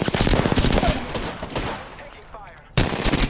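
Automatic gunfire in the Apex Legends battle royale game, rapid bursts of close shots with short pauses, a final loud burst after a brief lull.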